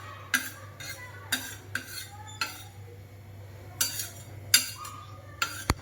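A spoon scrapes and clinks against a pan while something is stirred and roasted dry, giving a series of sharp, close metallic knocks at an uneven rhythm over a low stove hum.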